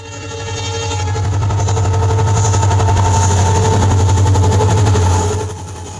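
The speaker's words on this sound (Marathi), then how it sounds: "या रेल्वेच्या रुळांवरून रेल्वे धावतानाचा हा आवाज काळजीपूर्वक ऐका" A train rolls along railway tracks with a deep rumble and rapid clacking wheel rhythm, swelling in, holding steady, then fading out.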